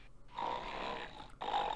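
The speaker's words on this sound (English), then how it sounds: "What is making that snoring noise?" Snoring from an unseen creature in the adventure game Orion Burger, a loud, steady snore swelling through one long breath, a brief pause, then another starting, with no talk over it.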